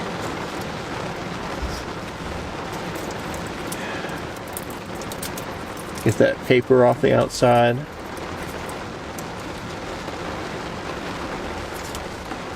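Steady heavy rain from a rainstorm hisses as a broad, even wash of noise throughout, heard from inside a car, with a person speaking briefly in the middle.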